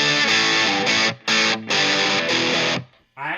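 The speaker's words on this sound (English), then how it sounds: "I actually really dig that kind of lighter distortion." Electric guitar through a Boss distortion pedal set to a lighter, lower-gain distortion, playing loud sustained chords in short phrases with brief gaps, ending with a few ringing notes, no voices.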